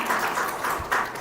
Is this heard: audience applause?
yes